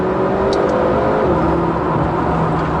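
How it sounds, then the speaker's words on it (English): A McLaren GT engine in comfort mode hums steadily and fairly quietly beneath constant road and cabin noise, with no talking. "Engine's quietened off."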